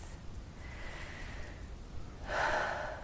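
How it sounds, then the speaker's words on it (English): A single deep, soft breath during a tapping session, a quiet airy inhale followed by a fuller, louder exhale near the end, close to the microphone. "Big, deep, soft breath"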